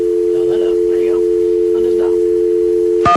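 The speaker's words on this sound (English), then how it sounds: "Let's dial the number, Randy." A steady telephone dial tone hums loud and unbroken, with a person talking over it, ending in a brief burst of a different tone as a number is dialed.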